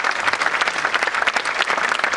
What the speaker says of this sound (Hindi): एक बार जोरदार तालियां हमारे एक्टरों के लिए।